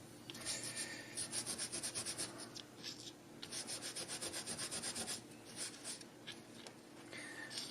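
Scrubbing with a Scotch-Brite abrasive pad, a rapid rhythmic rasping of back-and-forth strokes in bursts with short pauses, fairly close and moderately loud, with no talking.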